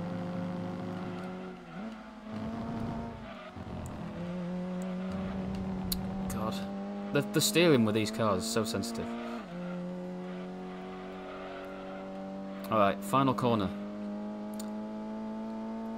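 Ford Mondeo ST touring race car in a racing video game, its engine droning steadily with rising and falling pitch through gear changes, a few tire squeals and clicks near the end, under someone talking throughout.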